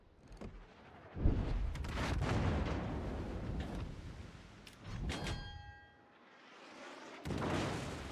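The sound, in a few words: warship artillery fire from a naval video game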